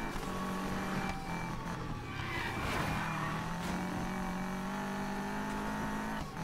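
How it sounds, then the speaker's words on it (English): An off-road car in NFS Payback drives with a steady, droning engine hum and rough tyre and gravel noise, occasionally shifting pitch as it accelerates, and stays continuous and fairly close throughout. "Now I'm in an off-road car and I have to follow the road that it gives me."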